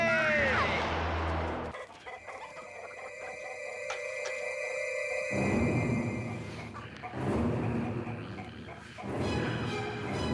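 A chicken clucks and a rooster calls faintly amid a busy film scene, with sustained musical tones and rustling background; the bird sounds are intermittent and not dominant.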